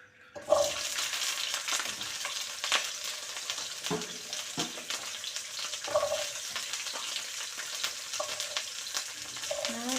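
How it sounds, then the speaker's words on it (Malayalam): Shallots frying in hot oil after dried red chillies, giving a steady, close sizzle with occasional scrapes and clinks of a spoon stirring the pan. "ഇനി ചുവന്നുള്ളി നന്നായി മൂത്ത് വരട്ടെ"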